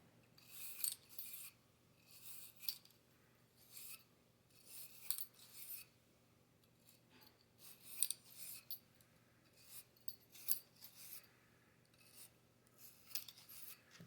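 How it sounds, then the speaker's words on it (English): A bore brush scrubs back and forth through a Colt 1911 pistol barrel, giving a series of rhythmic, bristly rasping strokes at close range, roughly one pass every second, with no talking. "The bore brush, you want to run it in."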